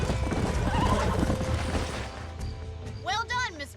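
Horses in a Western open-world game neigh and whinny close by amid clip-clopping hooves, the whinnies rising sharply near the end over a rumbling, busy background.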